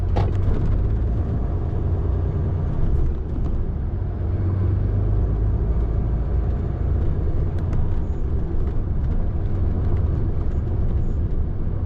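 A truck rolls along a country road, its steady low engine rumble and road noise continuous and close throughout, with no talk.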